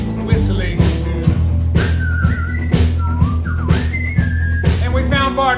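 A melodic whistled tune wanders up and down over a steady, rhythmic musical backing with a regular beat, carrying through most of the passage as part of a lively country-style song.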